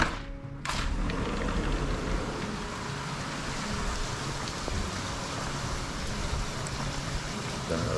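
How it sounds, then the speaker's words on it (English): Rain falls in Antalya, Turkey in the early morning after a brief quiet start, settling into a steady, even hiss that carries on to the end. "we've been woken up to the rain"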